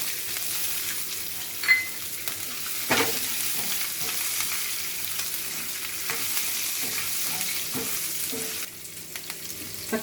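Urad dal and green chilies frying in hot oil for a raw mango rice, a continuous close sizzle with a few sharp spits and stirring clatters, no talking.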